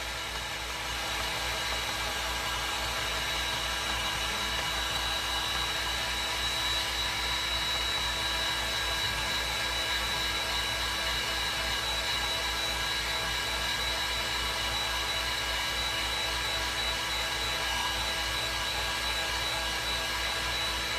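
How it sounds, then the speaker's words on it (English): A dryer, likely a hair dryer, blows a steady loud whir on a craft project, the constant airflow drone continuing unchanged for about twenty seconds with no talking over it. "Let's dry it so we don't make so much a mess."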